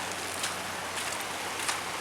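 Floodwater from monsoon rains flows past a house in a steady broadband rush, with occasional soft splashes rising briefly above the even wash and no voices over it.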